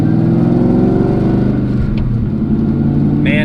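A Ford Mustang Cobra with a T56 Magnum manual transmission drones loudly and steadily from inside the car, its engine note dipping briefly mid-way as the gears change, then settling again.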